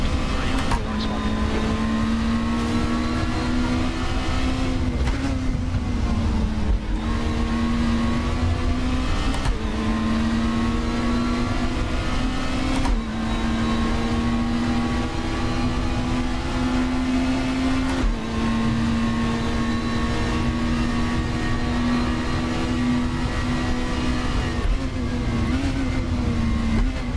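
A Volvo race car in RaceRoom holds a steady, loud engine drone throughout, with pitch sweeping up through the gears and dipping at each shift, alone without talk.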